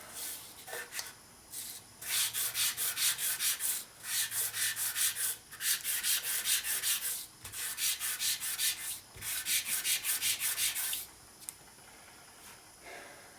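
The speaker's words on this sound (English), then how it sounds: "Now we take our fine paper. Go ahead and get it smoothed up a little bit." Fine sandpaper smoothing a rusty 1952 Harley-Davidson 74ci panhead cylinder head, a close hissing rub in fast back-and-forth strokes that run in several bursts separated by brief pauses.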